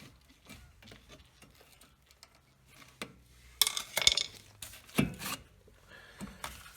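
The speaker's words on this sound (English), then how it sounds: "Now we need to remove the caliper. You should be able to just wiggle it off." A brake caliper is wiggled and pried off a Subaru Impreza, giving faint scattered metallic knocks and scrapes, with a few louder clanks later on.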